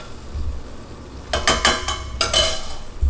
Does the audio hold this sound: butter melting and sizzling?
yes